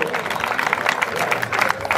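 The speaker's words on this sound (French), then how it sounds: "le public est debout. Il acclame François Pervis" A standing crowd claps and cheers for sprint cyclists François Pervis and Kevin Giroud at the Trophée des Sprinters track event in Couëron, with dense, steady applause filling the space throughout, and a commentator's voice running over it.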